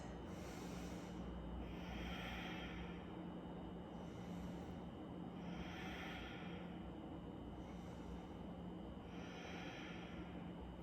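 Slow, steady breathing while holding a yoga crescent lunge, three long airy inhale-exhale cycles at an even pace over a constant low hiss of background noise, with no talking.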